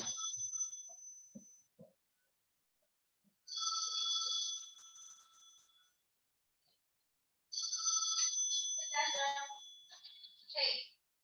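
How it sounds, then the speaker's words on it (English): A telephone rings in bursts of bright electronic trilling separated by silent gaps, fairly close, with faint speech between the rings. "The phone's ringing."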